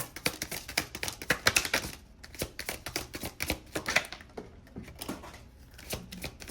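A deck of tarot cards being shuffled close up, a dense run of quick papery riffles and flicks that thins into scattered softer card slaps toward the end, with no voices.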